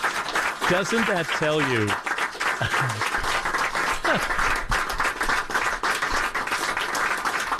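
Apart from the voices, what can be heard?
round of applause from assembled staff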